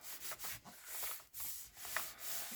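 A cloth ink pad rubs Very Vanilla ink onto paper in a papercraft project, making quiet, close, rhythmic scrubbing strokes with short pauses between them and no talking.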